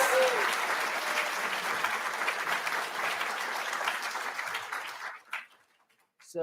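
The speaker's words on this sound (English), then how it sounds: "All right, another round of applause for all of our special award winners." An audience at a state contest awards ceremony applauds the special award winners with a sustained wash of many hands clapping, which then tapers off abruptly into near silence.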